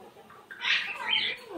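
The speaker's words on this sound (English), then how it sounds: "He's my pretty bird." A pet bird gives a couple of short, fairly loud squawking chirps, close by, in a quiet room.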